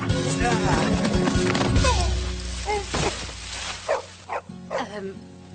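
A dog barks several times in short bursts amid an outdoor chase, with clattering and people shouting over it before the barks become sparse and separated.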